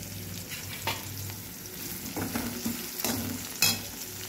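Dried red chillies and curry leaves fry in hot oil with a steady crackling sizzle, a few sharper pops and stirring scrapes breaking through near the end, close and fairly quiet.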